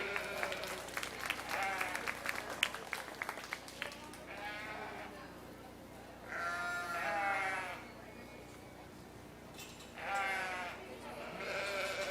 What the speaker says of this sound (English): Let's give all those showmen a big round of applause.